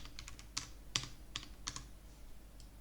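Keystrokes on a computer keyboard, a short run of quiet, irregular clicks and taps close by, with no speech.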